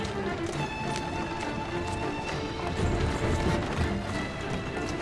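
Horse hooves clip-clopping in the video game Assassin's Creed Syndicate, a steady walking rhythm mixed with busy street and carriage noise, moderately loud and continuous.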